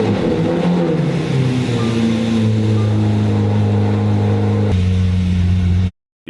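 Damaged Lamborghini SVJ engine running loud and steady close by, with a deep droning tone that shifts pitch midway, then cuts off abruptly near the end.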